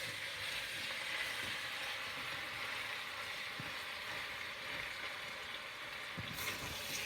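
Tomatoes and green peppers simmer in a pan for Maltese kapponata, giving a steady soft sizzle with faint occasional stirring clicks and no talking.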